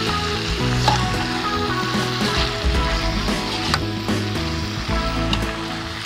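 Chicken sautés with mint in a pan for chicken thokku, a loud, continuous close sizzle and crackle of frying with scraping stirring sounds throughout and no talking.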